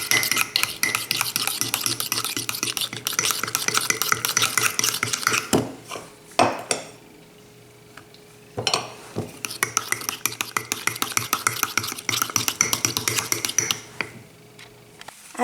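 A utensil stirring flour into a mixture in a bowl, close rapid scraping and rubbing strokes in a steady rhythm with a couple of brief pauses and knocks, no talk.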